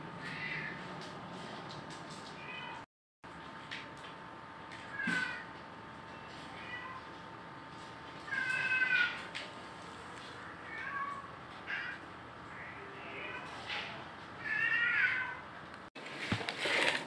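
A Sphynx cat meows repeatedly, several drawn-out plaintive calls spread across a steady background hum.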